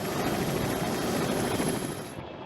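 A CH-46 Sea Knight military helicopter flies overhead during an assault on a ship at sea, its rotor roaring loud and dense before it drops away sharply at the end.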